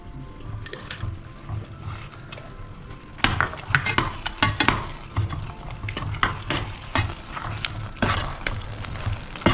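Bread halwa with roasted cashews and raisins is stirred in a pan, giving soft sizzling and scraping strokes that turn louder and more rhythmic midway, with no talking.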